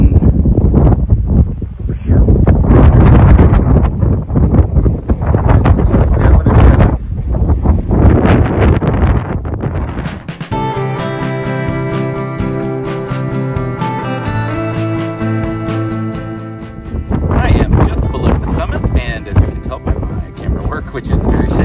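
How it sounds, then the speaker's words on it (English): Strong wind buffets the microphone on a mountain hiking trail in the Wichita Mountains, loud roaring gusts with a calmer tonal stretch midway before the rushing resumes, and talk heard within it. "it's very windy"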